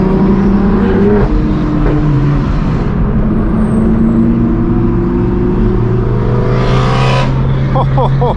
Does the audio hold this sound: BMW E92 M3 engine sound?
yes